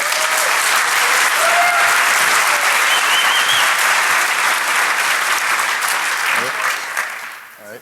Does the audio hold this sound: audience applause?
yes